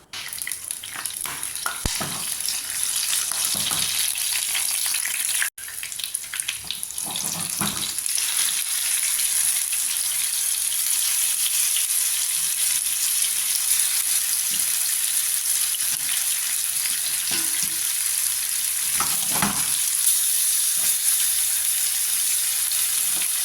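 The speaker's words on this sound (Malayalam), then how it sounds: "മീനിൽ തേച്ച് പിടിപ്പിക്കാം നമുക്കിത് പെട്ടെന്നൊന്ന് ഫ്രൈ ചെയ്തെടുക്കണം" Fish rubbed with chili powder, salt and lime juice sizzles and crackles steadily in a hot pan, a loud continuous hiss with occasional louder spits and stirring scrapes.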